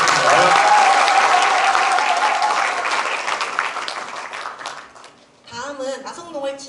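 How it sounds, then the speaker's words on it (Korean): At a town citizens' dialogue event in Naseong-dong, an audience gives welcoming applause to arriving officials. The loud, dense clapping gradually fades, and then a voice begins speaking. "힘찬 환영의 박수 부탁드립니다."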